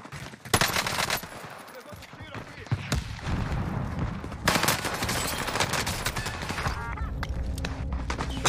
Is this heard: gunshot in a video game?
yes